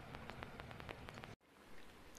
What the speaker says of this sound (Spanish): Ya se largó a llover.